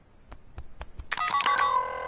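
In the animated series Lloyd in Space, several soft knocking taps lead into a telephone ringing: a bright, warbling electronic ring that rises abruptly and holds steady to the end.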